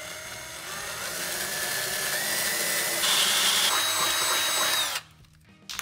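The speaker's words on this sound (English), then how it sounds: "And now drill with a 21/64 inch bit." A power drill with a 21/64 inch bit boring through bare metal on a 2018 Jeep Wrangler JK 4-door body, a steady close whine for about five seconds that rises in pitch partway through, then stops abruptly.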